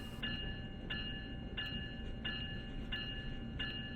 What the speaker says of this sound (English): Looks like we have a train either pulling in or out